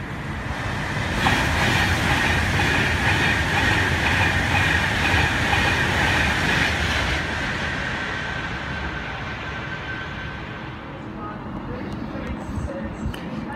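Train passing at speed through Milton Keynes Central station, a loud sustained roar with rushing wheel noise that holds for several seconds and then eases off as the train moves away.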